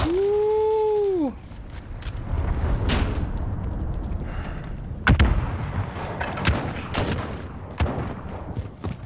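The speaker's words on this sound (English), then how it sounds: "Enemy cruise missile incoming." A cruise missile strike in an online shooter game, with a tonal warning sound up front, then rolling booms and a series of sharp blasts spread across the scene, with no talk over it.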